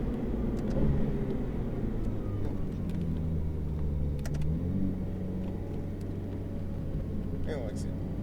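A Ferrari F8 Tributo on the Circuit de Haute Saintonge race track, its engine droning steadily with a rising pitch as it accelerates, heard from inside the cabin with an instructor's voice over the top.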